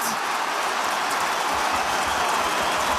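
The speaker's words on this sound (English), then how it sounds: "The roar of the MCG crowd." Large crowd roaring at the MCG stadium during an AFL match between Collingwood and Carlton, a dense steady wash of cheering and noise held at constant loudness throughout with no gaps.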